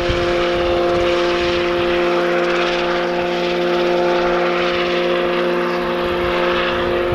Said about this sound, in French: Il y a encore le mec avec son hélicoptère, j'en reviens pas.